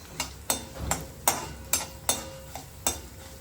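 Mustard seeds, urad dal and cumin frying in hot oil in a pan, with a steady sizzle broken by about seven sharp, regular stirring scrapes spaced roughly half a second apart, close and fairly loud.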